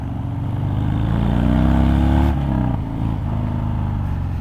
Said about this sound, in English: So it sounds like a Harley.